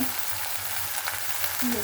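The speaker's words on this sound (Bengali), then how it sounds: "আদা রসুনটা ভাজা ভাজা হয়ে গেছে" Ginger and garlic sizzle steadily in hot oil in a pan, producing a continuous crackling hiss close by that holds the same level throughout, with no voices heard.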